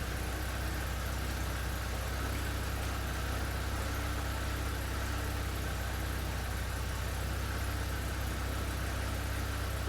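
A Porsche 944 idles steadily in a garage, a continuous low engine drone holding at an even pitch throughout with no voices over it.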